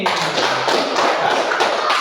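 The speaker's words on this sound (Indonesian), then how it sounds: "Jadi tepuk tangan buat kita semua hari ini." A classroom group of students claps together at a teacher's prompt at the close of a lesson, a dense steady patter of hands that fills the whole stretch at an even level.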